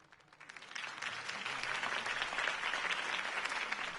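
A crowd applauds after a campaign speech in the video game TellTale's Batman, the clapping swelling from quiet to a full, sustained roar of many hands.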